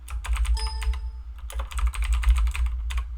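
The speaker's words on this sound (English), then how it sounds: "Let me just try typing something." Rapid clicking keystrokes on a computer keyboard, close and fairly loud, coming in quick bursts with a brief pause and a faint tonal beep early on, over a low hum.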